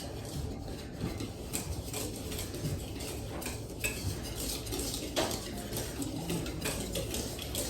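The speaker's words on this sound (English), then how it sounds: "And then we're going to make sure that they're all whisked together." A whisk clicks and scrapes steadily against a bowl, mixing dry muffin ingredients of flour, cinnamon and salt, close and continuous with light metallic ticks.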